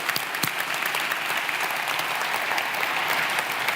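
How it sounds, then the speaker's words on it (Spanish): A church congregation breaks into loud, steady applause that fills the room for a few seconds, with scattered cheers rising from the crowd. "Dale un aplauso fuerte a Dios"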